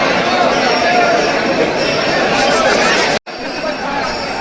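A dense crowd of devotees fills the night at Bhadra Maruti temple in Khultabad, a loud, steady babble of many voices close by, briefly cut off by a short drop near the end before the chatter resumes.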